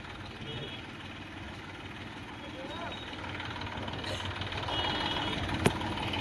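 A farm tractor's engine runs at a steady low drone under continuous nearby talk, growing slightly louder over several seconds, with a sharp knock near the end.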